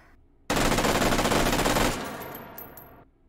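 A FAMAS F1 carbine dumping a 25-round magazine of 5.56x45 NATO on full auto in the VR shooter H3VR, one loud rapid burst lasting about a second and a half, then a fading echoing tail.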